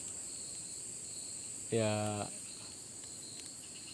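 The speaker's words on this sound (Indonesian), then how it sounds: "Ini suara jangkrik" Crickets chirping in pitch darkness at night near the sea beside a small fire, a steady faint high insect trill throughout, briefly overlaid by a short, louder tonal burst as a person utters a word.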